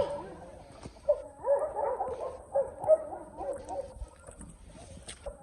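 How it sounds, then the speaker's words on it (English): Several dogs bark and yip at a distance along a forest trail, the barks scattered and fairly faint over outdoor background. "You can probably hear the dogs."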